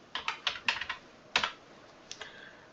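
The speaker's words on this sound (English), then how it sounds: "You click on it and you type Tween." Computer keyboard typing in a short burst of several quick keystrokes, a pause, then a few more taps, close and fairly quiet with no talking.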